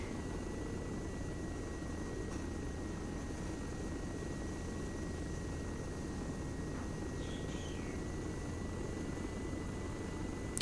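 A steady helicopter rotor and engine drone from a flight simulator video game fills the scene, constant and unbroken, with a faint high whine over a low rumble.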